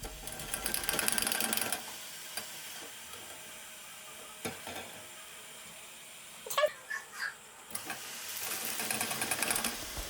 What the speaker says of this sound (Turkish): yağımı kızdırıyorum ve ardından yufkalarını da ekleyip yufkalar nar gibi kızarana kadar kızartıyorum